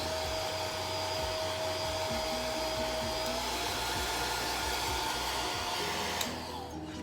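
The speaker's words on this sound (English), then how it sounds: "let's give it a dry. I'm gonna put it on low so it doesn't blow everywhere" A hair dryer on its low setting runs steadily, drying chalk paste on a crafting surface; a continuous close whir and hum holds throughout, then tapers off near the end.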